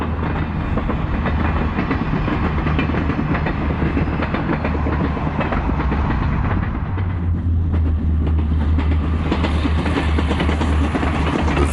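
Inside a diesel railcar on a single-track line through the Alps, a steady loud rumble of engine and wheels runs continuously, with rhythmic clatter from the rails and a deeper engine drone rising partway through.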